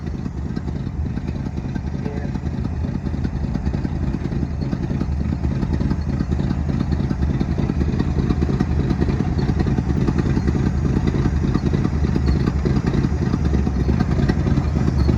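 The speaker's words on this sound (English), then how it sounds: "Sounds like maybe an exhaust leak on this side." A 1972 auction car's engine idles steadily and loudly close by, with a constant low rumble and a clattery ticking that may come from an exhaust leak on one side.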